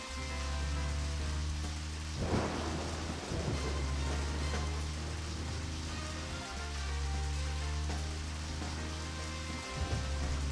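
Steady rain pours in a video game set in rainy London, a soft continuous hiss with a low rumbling hum of thunder rolling beneath it, a few brief crackling bursts standing out, faint and unbroken.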